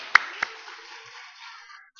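A church congregation gives a short burst of clapping during a worship service, two sharp claps near the start followed by a fading, sparse patter that thins out within two seconds.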